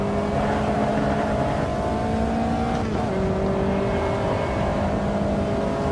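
A race car engine in the Automobilista 2 racing game drones steadily at high revs through a lap, its pitch dipping and resettling with a gear change midway, loud and continuous with no talk.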